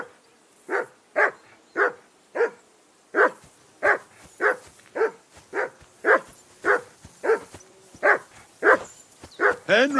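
Dog barking repeatedly in steady, evenly spaced yaps from the Kingdom Come Deliverance 2 game, fairly close and clear with no talk over it.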